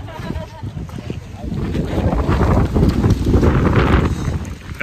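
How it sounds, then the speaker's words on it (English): Strong gusty wind blowing outdoors as a storm approaches, buffeting the microphone in heavy rumbling surges that rise and fall, with speech partly heard underneath. "Started getting windy hard out."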